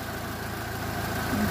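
VW Golf IV with a 1.6-litre 100 PS petrol engine idling, a quiet, steady low throb with even pulsing and no voices.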